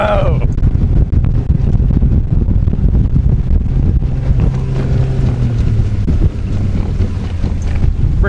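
A Jones Brothers bateau boat runs fast on its maiden voyage, a loud, steady low engine roar with water rush and wind buffeting the microphone throughout.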